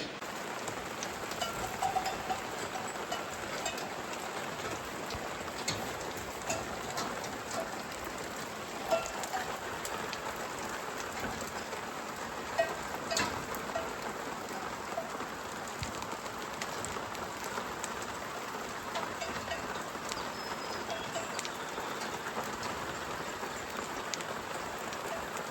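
Light rain falls steadily on a farm, a soft continuous patter of drops with no pauses, even and fairly quiet throughout, with no voices.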